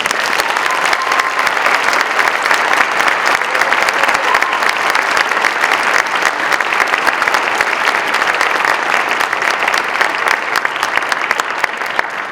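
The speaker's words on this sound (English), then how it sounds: "let's give them one more round of applause" Sustained applause from an audience at a National Honor Society ceremony, dense, even clapping that stays loud and steady for the full length before easing slightly at the end.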